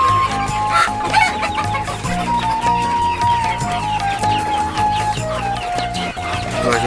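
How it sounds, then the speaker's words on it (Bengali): Native desi chickens on a small farm cluck continuously, with several birds overlapping at close range for the whole stretch and steady tonal sounds running underneath. "এগুলো হলো আমার অরিজিনাল দেশি মুরগি"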